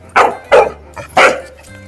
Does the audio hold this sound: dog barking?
yes